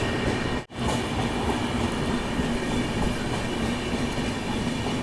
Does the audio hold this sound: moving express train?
yes